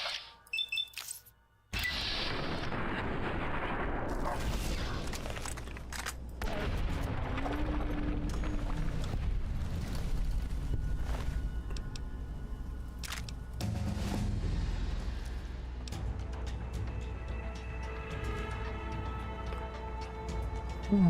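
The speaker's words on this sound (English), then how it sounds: "Last 2 shots of this gun." Gunfire in a video game, several loud sharp shots and booms after a brief quiet start, with crashes and mechanical clatter continuing through a dense, busy soundscape.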